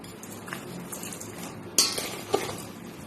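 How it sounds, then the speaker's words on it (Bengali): Mango pieces being mixed by hand with oil, salt, turmeric and chilli powder for mango oil pickle, a few close clinks and scrapes against a metal bowl over a soft background hiss. "এই যে খুব ভালো করে তেলটা দিয়ে মাখিয়ে নিচ্ছি"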